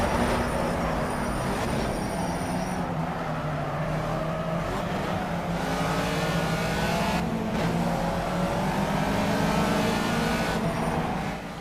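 Racing car engine in the Project CARS video game during the final lap of a career race, roaring loudly and continuously, its pitch climbing and dropping through gear shifts and corners, with no talk over it.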